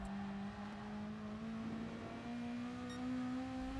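Race car engine in Gran Turismo Sport on the Nurburgring 24h circuit, a steady droning whine slowly rising in pitch as it gradually accelerates out of a turn, heard alone with no talking.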